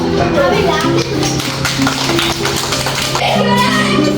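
Students in a classroom clap their hands together in a quick, uneven patter, mixed with loud children's chatter and voices throughout.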